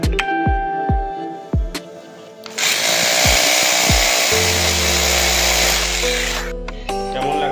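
A power drill boring a hole for panel installation at a home building site, a steady loud whine running several seconds after a series of sharp knocks and taps, with a lower machine hum joining near the end.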